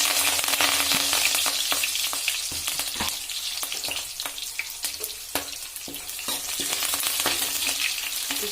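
Onion and curry leaves sizzle steadily in hot oil with mustard seeds, a continuous loud frying hiss broken by frequent sharp crackles and pops throughout, with no talking.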